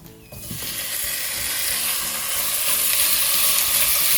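Chicken pieces browning in olive oil in a stew pot give a steady, close sizzle and crackle that begins after a brief quiet start and holds loud and continuous, with faint clinks of stirring.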